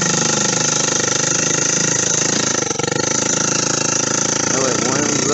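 Small engine on a motorized bicycle with a turbo build, running steadily with the choke on and no throttle, giving a loud, constant, buzzing drone up close, alone and without talk.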